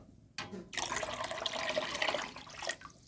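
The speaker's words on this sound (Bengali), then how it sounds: "দেখো জলটা গরম হচ্ছে আর এটা একবারে ঢালবো।" Lukewarm water is poured in one go onto arrowroot starch, a steady rushing splash that starts abruptly and runs for a couple of seconds before tapering off, close and moderately loud with no talk.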